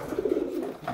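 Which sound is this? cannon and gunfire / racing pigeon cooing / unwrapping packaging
racing pigeon cooing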